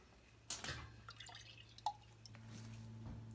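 A faint, quiet scene with a few distinct water drips and a soft splash over a low steady hum, as water is drawn from a basement sump pit.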